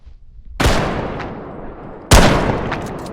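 Two sharp, loud gunshots ring out about a second and a half apart in the video game Bodycam, each blast followed by a booming echo that fades away indoors, with no talking.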